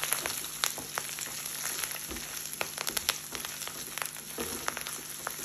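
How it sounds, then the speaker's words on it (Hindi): Whole spices including coriander seed, nigella, fennel and curry leaf sprigs frying in oil over low heat for achari chana dal, a soft continuous sizzle with sharp scattered pops and crackles, close but fairly quiet. "दो मिनट इन्हें फ्राई करेंगे।"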